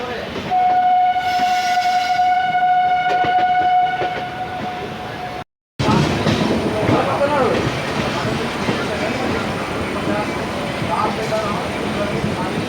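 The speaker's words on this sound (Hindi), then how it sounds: "चलिए भाई डिपार्चर ले चुकी है गाड़ी नई दिल्ली रेलवे स्टेशन से।" Amrit Bharat Express train pulling out of New Delhi railway station, with a long steady horn blast followed after a brief gap by continuous loud rumbling and clatter of the moving coaches.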